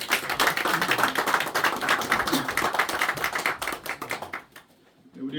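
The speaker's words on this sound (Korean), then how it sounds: "하나님께 영광의 박수를 올려드립니다." A church congregation breaks into sustained applause during a Sunday morning worship service, dense and steady clapping that fades out toward the end.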